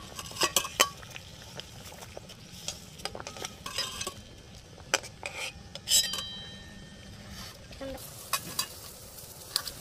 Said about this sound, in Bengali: এখন ঢাকনাটা সরিয়ে নিই, কপিটা নামিয়ে নিই।